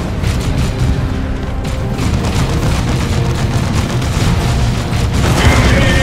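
Artillery strikes in the Warhammer 40,000 strategy game Dawn of War II: Chaos Rising land as loud, rolling booms that merge into a continuous heavy rumble, with no voices over them.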